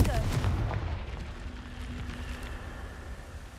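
Confringo, a fire spell in the video game Hogwarts Legacy, bursts with a booming blast that decays into a rumbling tail and fades over a few seconds.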